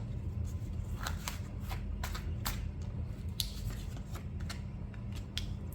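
Tarot cards are shuffled and laid out by hand, making crisp, quick flicks and soft slaps close up over a steady low background hum.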